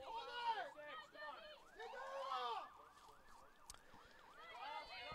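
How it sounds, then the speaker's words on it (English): An ambulance siren wails on a road behind the bleachers at a college women's soccer match, its rising and falling tone passing fairly faintly and continuously in the background while a commentator talks. "Now an ambulance goes through before the fire truck made its way."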